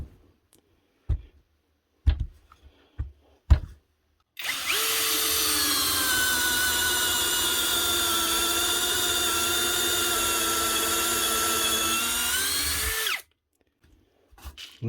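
A copy Makita cordless drill bought from Amazon runs under load in one long, loud, steady whine of about nine seconds, its pitch dipping slightly as it bites, with a few sharp clicks and knocks before and after.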